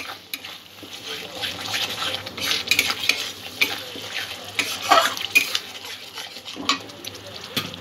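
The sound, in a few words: stirring vegetable korma in a pan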